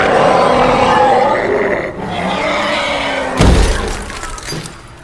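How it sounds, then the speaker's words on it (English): A strong glass barrier in a film scene strains under rumbling pressure, then cracks and shatters in a loud, bright burst with a heavy low impact, under dense dramatic sound. "this strong glass barrier, but it's cracking, and it's eventually gonna break"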